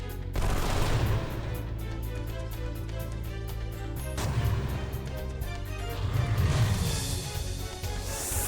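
Rapid Gatling gun attack firing in the video game Wild Arms 3, a dense, steady burst of loud repeated shots with game music and effects underneath, continuing throughout with a brief break midway.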